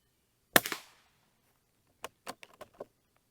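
Rifle shots fired at a target while sighting in a scope, one sharp loud crack followed a moment later by several quicker, fainter reports in a ragged cluster, nothing else around them.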